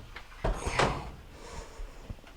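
The door of a GE dryer is worked loose and pulled away during a repair, a few dull knocks and a scraping clunk of panel parts shifting, close and fairly quiet.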